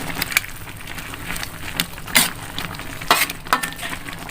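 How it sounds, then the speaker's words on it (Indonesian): A utensil stirs mie kuah noodles with sweet soy sauce in a pan, giving close scraping, clinking strokes with a light sizzle beneath, in irregular bursts. "Kita aduk dulu."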